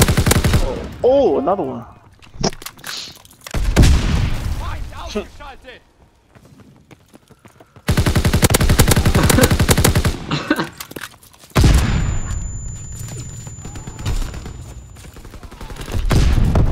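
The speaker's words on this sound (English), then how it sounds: "Strafing run inbound." Loud machine-gun bursts from a strafing run in the World War II shooter Call of Duty WW2 come in several long, dense volleys separated by short gaps, with someone talking briefly over the action.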